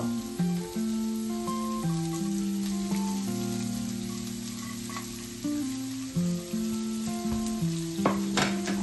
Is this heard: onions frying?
yes